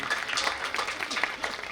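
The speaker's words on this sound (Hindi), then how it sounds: "जोरदार ताली हो जाए हमारे नेताजी के लिए।" Applause from an audience at a school lab inauguration, with dense, steady clapping that runs through the whole moment at a moderate level and sounds like a crowd in a hall.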